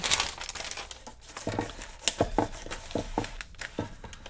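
Scissors cut green paper into small notebook pages in a few irregular snips, with crisp crinkling and rustling sounds close up, a handful of separate cuts over a few seconds and no voices.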